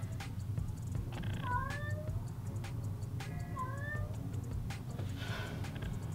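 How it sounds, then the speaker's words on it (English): A cat meows twice in rising, drawn-out calls, close by, over a steady low hum in an indoor room; no talking accompanies the meows. "My cat wants to say hi."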